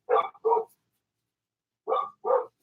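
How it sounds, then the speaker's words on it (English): A puppy barks twice, then pauses and barks twice again, in short, high, fairly close yips with silence between. "Puppy's barking."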